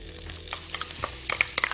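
Chopped onion and garlic frying in a pan make a brief, close, bright sizzle with small crackling pops throughout.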